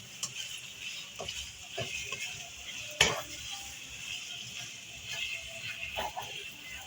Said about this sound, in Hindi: पाँच से 7 मिनट तक इसकी अच्छी सी यूँ भुनाई कर लीजिए मीडियम फ्लेम के ऊपर